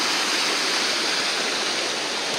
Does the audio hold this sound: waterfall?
yes